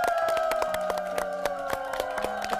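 Applause and cheering from a lecture audience as a doctor is welcomed to the stage for a health talk, with a dense stream of claps, some sharp individual hand strikes, and steady crowd noise throughout.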